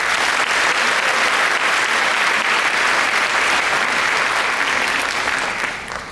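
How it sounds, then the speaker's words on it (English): A large crowd at a graduation ceremony gives a loud, sustained round of dense applause that holds steady before tapering slightly at the end. "So one more round of applause for yourself."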